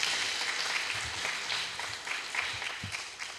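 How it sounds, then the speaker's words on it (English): A church congregation applauds its council members at a Lutheran congregational meeting, a dense, steady wash of many hands clapping at once that holds for several seconds and tapers slightly at the end. "If you give them a round of applause for all the work they've been, I'd really appreciate that."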